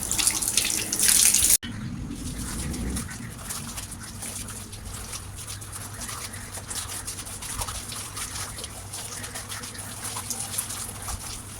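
Tap water runs steadily while cows are being washed, with a hard splash and clatter near the start and then a constant hiss of flowing water that carries on alone without talk.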